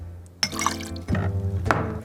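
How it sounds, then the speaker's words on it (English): Cranberry juice poured into a tall glass of ice: a brief splash, a few sharp clinks of ice against glass, then a second short burst of pouring, close and clear. "Next, pour 1 ounce of cranberry juice"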